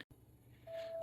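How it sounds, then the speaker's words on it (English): Door-open warning chime inside an Acura MDX with the doors open, a steady electronic tone that starts partway through and holds unbroken to the end, fairly loud over a quiet cabin. "I do apologize for the annoying beeping in the background."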